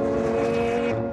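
McLaren sports car braking hard in a big parking lot, a loud, close engine drone with a squealing tire edge that drops away abruptly near the end of the short burst.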